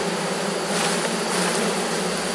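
Honeybees buzz in a dense, steady drone while a beekeeper inspects a hive and moves frames between Miniplus and Maxiplus hive boxes, the swarm sound close and continuous with no voices.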